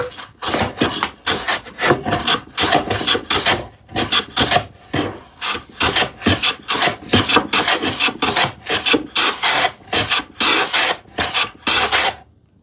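A hand plane takes shavings off plywood in repeated rhythmic strokes, each a loud, close, rasping swish separated by short pauses, about two dozen passes with no talk.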